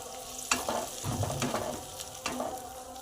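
Pasta and egg fry in a pan, giving a soft continuous sizzle broken by a few sharper clicks and scrapes of stirring, heard up close with no talking.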